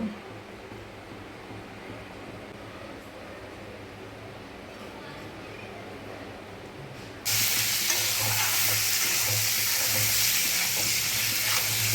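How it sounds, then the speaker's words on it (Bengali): Pointed gourd (potol) pieces drop into hot oil in a pan, starting a loud, steady sizzle after a quieter stretch of kitchen noise. "তেল দিয়ে আগে পটল ভেজে নেব।"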